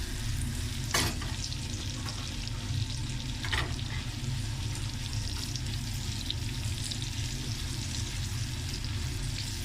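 Thinly sliced onions fry in a pan over a high flame, giving a steady, close sizzle, with a couple of sharp utensil clicks near the start.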